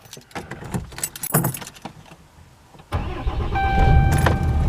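Keys jangle and rattle, then a Ram 2500 pickup truck engine cranks and catches at about three seconds, settling into a steady, fairly quiet idle close by.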